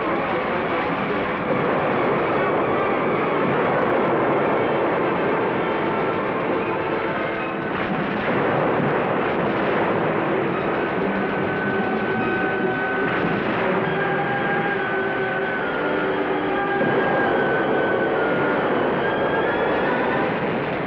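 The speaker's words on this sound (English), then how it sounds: "Planes bomb and strafe." WWII aircraft bombing and strafing at Iwo Jima, a dense continuous roar of engines and blasts, loud and sustained with rolling swells and no clear pauses.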